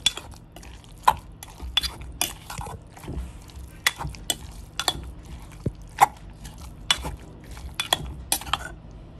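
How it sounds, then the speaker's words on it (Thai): Chopped fermented fish stirred into a Thai chili paste with a utensil, giving sharp intermittent scrapes and clinks against the bowl at an uneven rhythm, close and fairly quiet, with no talk. "เอาปลาร้าที่เราสับไว้เนี่ยค่ะใส่ลงไปนะคะแล้วก็คนให้ทั่ว"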